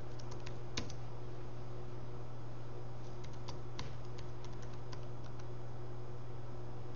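Quick keystrokes on a computer keyboard come in short bursts of light clicks over a low steady hum, as a login password is typed during sign-in.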